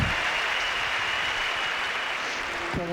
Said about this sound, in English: A whoosh from the crowd.